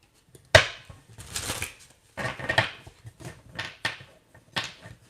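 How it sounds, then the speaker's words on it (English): Tarot cards are shuffled in a series of quick riffling and slapping bursts, close and fairly crisp, separated by short pauses. "That was a weird shuffle."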